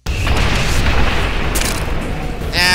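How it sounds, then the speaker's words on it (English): Gunshot in a shooting video game, a loud, sustained booming blast that fills the clip with dense rumbling noise, followed by a brief metallic ring at the end. "And I missed my first shot."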